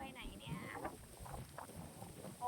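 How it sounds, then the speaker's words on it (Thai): Strong wind blows across a riverside mango orchard in Non Thai, Korat, a steady rough rush buffeting the microphone throughout, with faint voices underneath. "ลมแรงจริงๆเลยตรงนี้"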